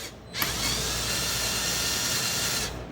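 Drill bit grinding into a broken bolt, a steady close whirring drone starting after a brief pause and running continuously for a couple of seconds before cutting off, with no speech.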